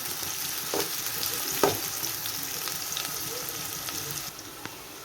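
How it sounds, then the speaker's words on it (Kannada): Onions frying in oil with green chilli and curry leaves, a faint continuous sizzle with a couple of soft stirring knocks, no talk over it. "ಹಸಿಮೆಣಸಿನಕಾಯಿ ಕರಿಬೇವು ಸೊಪ್ಪು ಈರುಳ್ಳಿ ಹಾಕ್ತಾಯಿದ್ದೀನಿ ಈರುಳ್ಳಿ ಎಲ್ಲ ಸ್ವಲ್ಪ ಕೆಂಪಗಾಗಬೇಕು"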